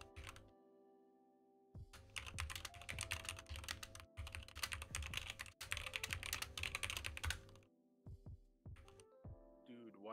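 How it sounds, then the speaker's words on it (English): Loud computer keyboard typing close to the microphone in dense rapid bursts of clacking keystrokes, with short pauses between runs, during a gaming livestream. "Why is your keyboard so loud?"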